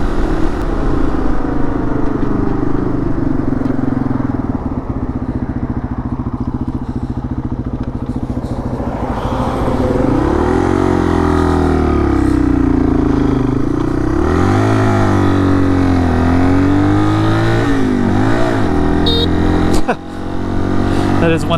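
A Yamaha XT225 motorcycle engine while riding, loud and close, revving up and down through gears with changing pitch and wind rush, a short clatter near the end.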